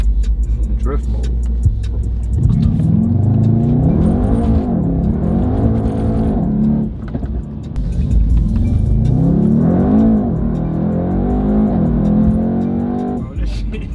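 A Dodge Hellcat's engine rumbles and revs as the car accelerates, with rising and falling pitch sweeps as it climbs through gears, loud and close from inside the car, with people talking over it.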